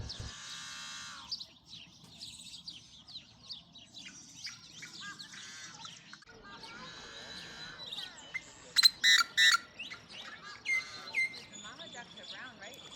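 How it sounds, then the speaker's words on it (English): Yellow-headed blackbirds calling in Colorado's San Luis Valley, a series of buzzy, raspy chirps and harsh squeaky calls, several loud close notes in a burst near the end, with faint background murmur. "Then we saw these yellow-headed blackbirds."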